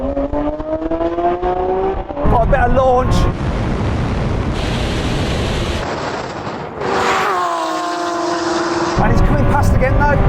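A Lamborghini Aventador launches and accelerates hard in a drag race, its engine roaring through rising and shifting tones with wind buffeting the microphone and a voice talking over it.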